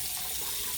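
Tap water running steadily into a sink for hand washing, a continuous broadband splash, close and alone, with no talk.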